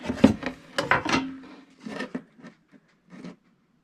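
A marker or scribe scratches a line onto a metal mounting plate for a diesel heater install, a few short rubbing strokes close by that taper into fainter scrapes.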